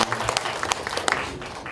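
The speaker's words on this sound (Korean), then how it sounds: "다시 한번 감사의 박수를 부탁드립니다" Audience at an academic conference on national religions claps in a short burst of scattered applause, with a voice speaking over it.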